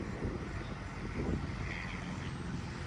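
Continuous engine drone of a light propeller aircraft flying at the Oshkosh airshow, a steady moderately loud hum over open-air ambience.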